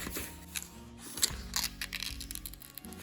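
Soft crackling and light tearing clicks as stuck book pages are slowly peeled apart, close and quiet, with no talking.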